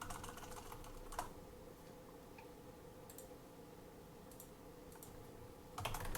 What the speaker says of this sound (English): So maybe I can type that out, the general pattern here.